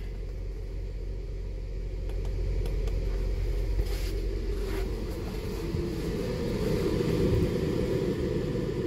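A Dometic Penguin 15k rooftop RV air conditioner running on low speed, a loud steady low rumble and whir with its shroud off, with faint knocks on top.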